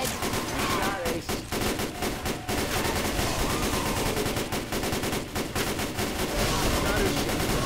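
Rapid bursts of gunfire in Left 4 Dead 2, loud and near, with dense automatic firing and shots overlapping almost without pause throughout.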